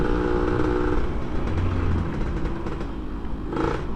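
A motorcycle with an FJP aftermarket exhaust rides along at moderate speed, a steady close engine drone with a raspy low rumble and no voices.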